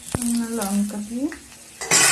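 Eggplant frying with chillies in a pan being stirred, a close spoon scrape and clatter over a steady sizzle, with a short humming tone partway through and a loud burst of sizzle at the end.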